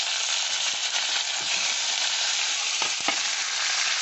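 Ivy gourd and green chillies sizzle in hot mustard oil tempered with nigella seeds, a dense, steady frying hiss with a few stirring scrapes near the end, close and continuous.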